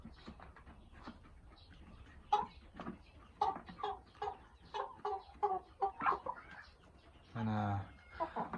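Hens clucking in a poultry flock, a series of short, close clucks and calls in an irregular rhythm, with a longer, louder call near the end against a quiet background.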